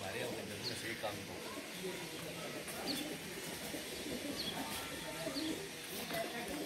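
Pigeons coo softly amid a busy, noisy outdoor background, their low murmuring calls repeating faintly throughout.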